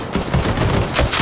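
Gunfire in the online shooter Battalion 1944 crackles as a burst of rapid shots, loud and close, lasting about a second with no voices over it.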